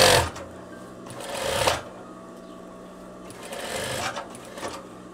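A sewing machine stitches elastic onto veterinary overalls in two short, close whirring bursts, each about a second long, separated by a quiet pause.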